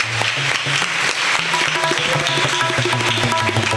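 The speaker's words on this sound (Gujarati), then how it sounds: "આપણે સૌ તાળીઓથી એક વખત આ શુભેચ્છા સંદેશ છે એનો આભાર માનીશું." Audience applause at a lecture and book launch event in a hall, steady dense clapping filling the whole few seconds with some tonal background sounds mixed in.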